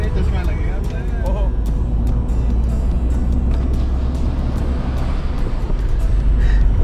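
A car driven on an Indian highway heading toward Garhmukteshwar, a steady low engine and road rumble heard from inside the cabin, continuous and fairly loud.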